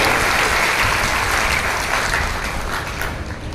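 A crowd claps steadily and loudly at a job fair, the applause slowly tapering toward the end with no talking.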